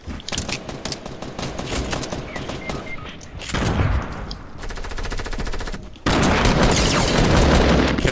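Suppressed gunfire rattles in Fortnite, rapid repeated bursts with a dense mechanical patter, loud and close, broken by short gaps before a final sustained volley.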